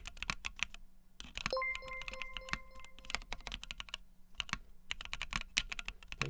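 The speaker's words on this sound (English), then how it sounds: "Keyboard clicks, mouse clicks, keyboard level." Someone types on a computer keyboard up close in irregular bursts of crisp clicks separated by short pauses, with a brief steady tone sounding partway through.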